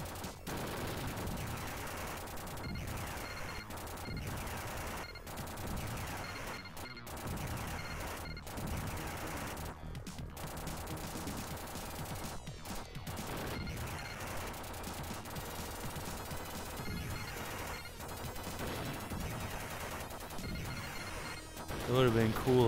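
Rapid gunfire from the Terminator 2 arcade game on Sega Genesis, with steady rattling bursts and crashes running throughout over game music and sound effects, dense and continuous.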